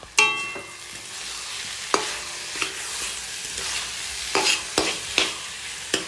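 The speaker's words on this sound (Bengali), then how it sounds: "এখন লাউ ভাজা হচ্ছে।" Bottle gourd frying in a pan in a home kitchen, with a soft steady sizzle under repeated sharp clinks and scrapes of a spatula stirring.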